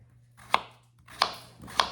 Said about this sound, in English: Now let's chop our potatoes.